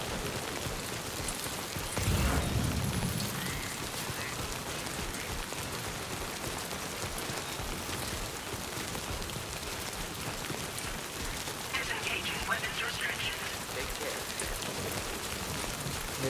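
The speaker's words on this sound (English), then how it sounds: "And we are in the timefall now" Steady rainfall of timefall pours across the landscape in Death Stranding 2, a continuous hiss of drops on surfaces with a brief louder gust of wind or rumble early on, otherwise even and unbroken.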